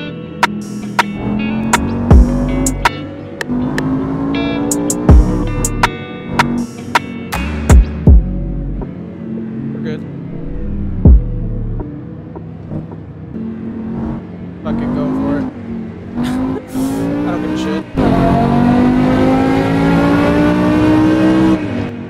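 Tuned 754 bhp BMW M5 E60 revving hard and accelerating, loud throaty rising engine notes broken by sharp cracks and pops, repeated revs building to a sustained high scream near the end, with voices in the car at times.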